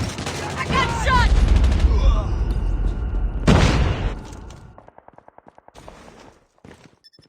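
A shooter video game battle with loud sustained bursts of automatic gunfire and a heavy blast, followed by quieter rapid clicking shots and game voice callouts mixed in.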